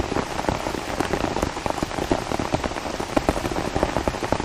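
Heavy rain pounds an umbrella in Mooresville, North Carolina, near Lake Norman: a dense, continuous patter of drops drumming close overhead, loud and unbroken throughout.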